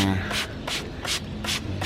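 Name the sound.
spray bottle spraying a jade plant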